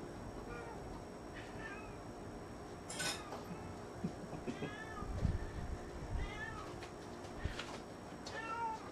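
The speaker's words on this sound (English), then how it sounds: "You hear them meowing?" Several cats meow repeatedly in short, insistent calls for treats, with dishes clinking and soft voices murmuring in the background.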